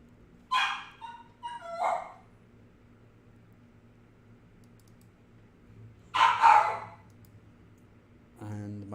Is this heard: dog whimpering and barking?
yes